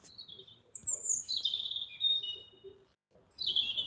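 A night-singing bird, often mistaken for a nightingale, sings a calm song of high, clear whistled phrases separated by short pauses. It sounds fairly faint and distant against a quiet background.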